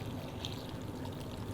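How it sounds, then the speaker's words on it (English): Water pours steadily from a big pitcher over apples for cider, making a continuous close splashing and trickling sound without talk. "I got a big old pitcher of water here, and you're just going to cover the whole thing"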